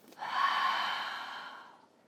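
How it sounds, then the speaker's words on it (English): One long breathy exhale out the mouth during a morning yoga session, close and soft, swelling quickly then fading gradually over about two seconds with no talk. "And then exhale out the mouth."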